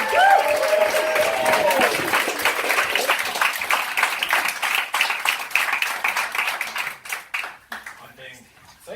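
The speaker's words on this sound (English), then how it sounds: "let's get some applause going" A comedy night audience at a toast bar claps and cheers to welcome comedian Chewie, the dense applause loud at first, then thinning into scattered claps that fade out toward the end.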